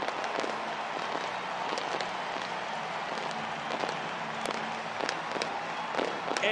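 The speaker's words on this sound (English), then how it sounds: "getting the fireworks going early on here in the first" Stadium fireworks go off after a home run at a White Sox baseball game: a dense run of crackling bursts and sharp pops over a steady crowd wash, with no clear talk.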